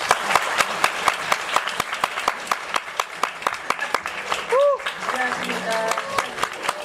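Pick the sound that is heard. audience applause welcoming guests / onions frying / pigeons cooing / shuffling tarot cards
audience applause welcoming guests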